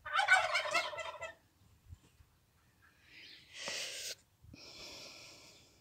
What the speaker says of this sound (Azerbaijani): Ördəklər də yığışıb ora.